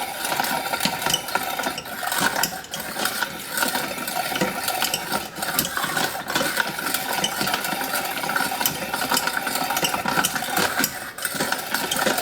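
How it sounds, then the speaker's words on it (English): A hand-cranked food mill grinds tomatoes for sauce with a continuous close-up ratcheting, gritty churning and steady clicks of metal turning against pulp, with no voices over it. "The good old traditions of food milling your tomatoes."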